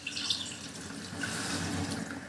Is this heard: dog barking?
no